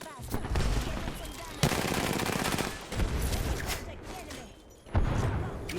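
Video game gunfire in bursts of rapid automatic shots, loud and close, broken by short pauses and resuming several times, with some talking underneath.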